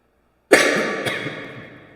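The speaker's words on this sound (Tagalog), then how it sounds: "Pasensya na po, inuubo po tayo." One loud, sharp cough bursts out of silence at close range during a live stream, followed by a second smaller catch and a slowly fading room echo.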